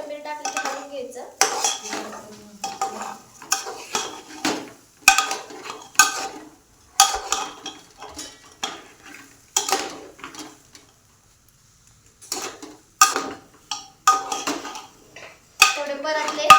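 A spoon clatters and scrapes around a metal pot as rice with chopped coriander is stirred, with close, irregular metallic knocks and brief pauses between bursts.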